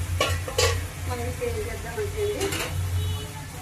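Broad beans curry stirred in a pan, a spoon scraping and clinking against the metal over a soft sizzle, with a few sharper knocks and a low hum behind.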